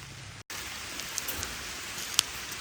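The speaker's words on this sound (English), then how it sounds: "Jax is looking at me like, Mama, it's raining." Steady rain pattering outdoors at a campsite, a continuous soft hiss with a few sharper drop ticks, briefly cut by a short gap, with no talking.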